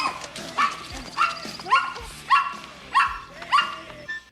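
A small dog barks in a steady series of about seven sharp, yappy barks spaced roughly half a second apart, fairly close and loud, on a suburban lawn.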